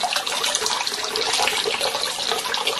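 Water pours steadily into a quart-sized container, a continuous close splashing and gurgling stream with no talking.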